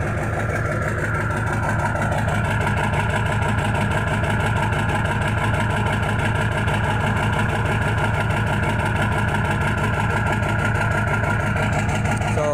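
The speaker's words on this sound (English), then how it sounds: "Give you guys a sound of what the exhaust sounds like right now while it's cold." Cold idle of the exhaust on a 2000 Ford F-350 with the 7.3 diesel, a steady, loud, close rumble with an even low throb that holds throughout, no talking.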